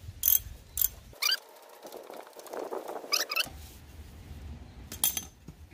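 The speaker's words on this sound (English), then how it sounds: "So the first thing we're going to do is go ahead and just tighten that bolt back up in here." A ratchet wrench tightens a bolt in quick bursts of clicking, close and fairly quiet, with soft metallic handling sounds between the strokes.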